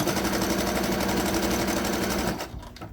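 A sewing machine stitching a skull cap, also called a surgical cap, runs in a rapid, even rhythmic whir, close and fairly soft, then stops shortly before the end.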